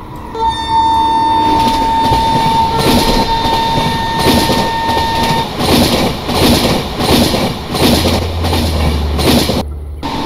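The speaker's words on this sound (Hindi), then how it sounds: "ये इतने खतरनाक ट्रैक साउंड्स आएंगे ना तो यार अच्छा ही लगेगा" The Saurashtra Mail train running on tracks in the Train Simulator RailWorks game, a loud, steady rumble with rhythmic clickety-clack beats and sustained horn tones early on, ending in an abrupt cut.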